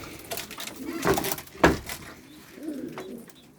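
Pigeons coo in a loft where young birds are being raised, with soft murmuring calls and a few louder coos rising and falling close by, plus light shuffling in the background.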